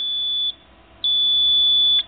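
Battery management system alarm giving loud, steady high-pitched electronic tones: a half-second beep, a pause, then a longer held tone of about a second, heard alone with no talk.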